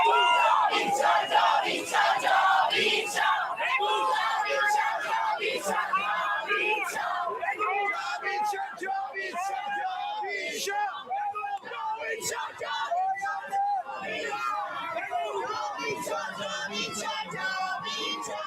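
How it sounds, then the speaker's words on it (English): A large crowd cheers and yells loudly and continuously for President Trump, a dense roar of many voices with whoops and shouts rising and falling throughout. "Another country cheering for Trump."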